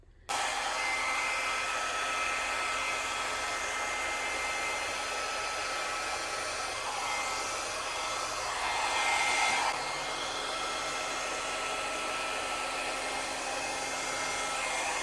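A hair dryer blows steadily on acrylic pour paint, a close, even rushing whoosh that holds for the whole stretch with only slight swells as it is moved around.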